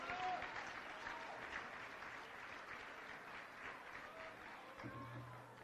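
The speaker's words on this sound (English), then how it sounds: "Let's give Michaela Mapes a big round of applause." An audience at a charity gala claps for the auctioneer, a sustained wash of applause from a crowd that holds fairly even for several seconds at low volume.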